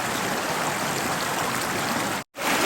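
Steady rushing of a flowing stream on the Appalachian Trail fills the whole clip, close and loud, with a brief cut near the end.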